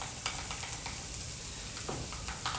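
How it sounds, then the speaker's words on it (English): Mushrooms sizzle and fry in a pan, with a soft steady crackle and several brief scraping stir sounds over about two and a half seconds; no one speaks. "You can hear the mushrooms cooking."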